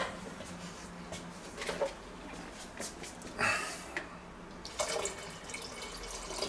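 A little water is poured into the sauce of a pork roast cooked in a clay Römertopf, heard as a few short, faint splashing and trickling bursts against quiet background noise.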